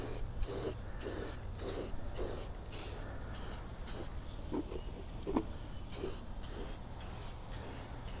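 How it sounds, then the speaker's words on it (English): A spray paint can hisses in short repeated bursts of light coats onto a plastic popcorn tub, close and fairly quiet, with brief pauses between sprays. "Next thing you want to do is spray paint it. Start off with a light coat and then go with a second coat."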